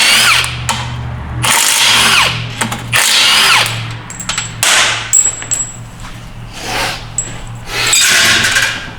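A power tool zips out 13mm bolts on a 1997 Ford F350's ZF5 transmission in a workshop, loud close bursts of whirring and rattling separated by short pauses and metallic clinks.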